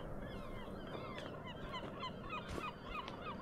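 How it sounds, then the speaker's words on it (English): Seagull cries in Skyrim, a series of high, wavering calls repeating over a steady ambient wash, moderately faint and with no talking. "Those blinking seagulls."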